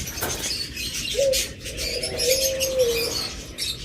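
Caged lovebirds and cockatiels give a few chirps and one drawn-out whistled call, close by over a low background hum.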